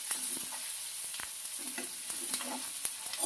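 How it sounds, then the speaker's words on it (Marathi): Onion sautés and is stirred in a hot pan, with a steady soft sizzle and scattered spoon scrapes and clicks, fairly quiet and with no talking. "कांदा चांगला परतून घ्यायचा."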